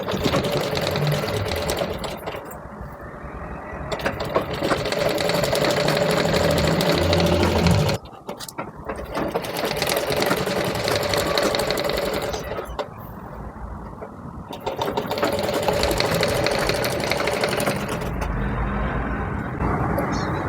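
A sewing machine stitches an umbrella frock, its motor whirring in long steady runs with brief pauses between passes, while someone talks over it giving instructions.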